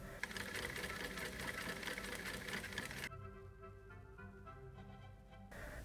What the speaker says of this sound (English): sewing it together. And securing with additional stitch near the seam.